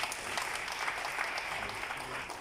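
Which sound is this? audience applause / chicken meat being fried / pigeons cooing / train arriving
audience applause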